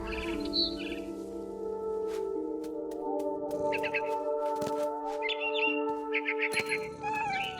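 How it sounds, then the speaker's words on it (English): Barn swallow chirps from the game What Remains of Edith Finch, bright short calls scattered over a steady musical bed, with a few cat-like meows mixed in. "Then I heard chirping outside my window."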